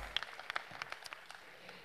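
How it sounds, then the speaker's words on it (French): Scattered, faint clapping from a crowd at a political rally in Rennes, a few sparse claps at a distance tapering off over a couple of seconds. "je pense qu'on peut les applaudir"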